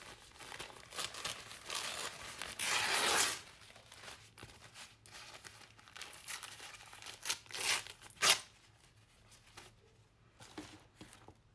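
A paper napkin is torn by hand for a paper craft journal, producing soft crinkling and a few quick ripping tears at close range, the rest quiet and faint, with no talking.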